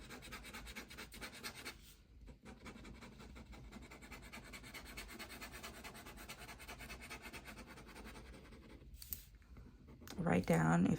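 Pen scratching across paper in short strokes while sketching a dress design, quiet and close, with a brief pause, then a louder rustle near the end.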